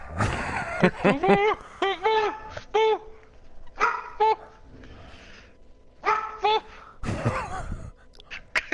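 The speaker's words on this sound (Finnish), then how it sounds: "Kattoo kenkäkappia ja haukkuu." Dog barking indoors in repeated short bursts of yips and barks with whimpery tones, close and loud, in clusters separated by pauses, with a person speaking in between.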